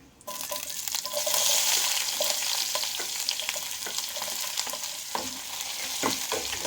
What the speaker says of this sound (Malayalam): ചട്ടിക്കകത്ത് വെളുത്തുള്ളി ഇട്ട് വഴറ്റി കൊടുത്തുകൊണ്ടിരിക്കുകയാണ്